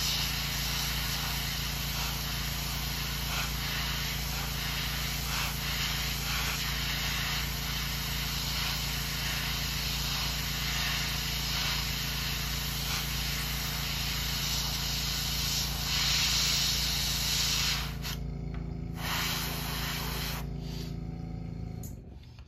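An airbrush hisses continuously as it sprays paint onto a swimbait, a steady close spray lasting the whole stretch before tapering off at the end.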